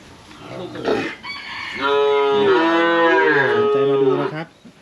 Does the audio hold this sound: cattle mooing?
yes